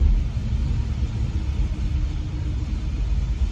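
Distant thunder after a storm rolls as a low, steady rumble throughout, faint and far off, with no voices.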